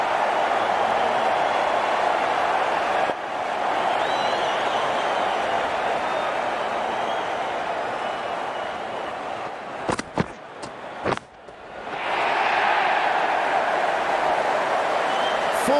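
A stadium crowd in the Cricket 19 video game cheers and applauds in a dense, continuous roar that briefly drops away near the end before surging back.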